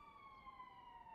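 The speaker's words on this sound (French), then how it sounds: "Ah, j'ai des sirènes." Police sirens wail in a steady, slightly falling tone, faint and distant beneath a low background rumble.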